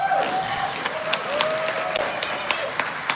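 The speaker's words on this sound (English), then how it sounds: "a round of applause to our amazing ladies who have given us beautiful entertainment on this stage tonight" Audience at a live Fem Queen Honors stage show applauding, a steady wash of clapping and crowd noise with a few whistles throughout.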